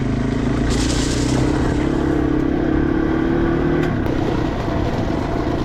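A Yamaha TW200 motorcycle riding over loose uncrushed stone on an abandoned railroad bed, a steady close engine drone under heavy wind rumble, with a rising rev near the start and rattling gravel throughout.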